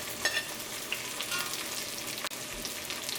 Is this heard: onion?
yes